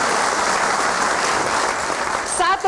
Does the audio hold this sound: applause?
yes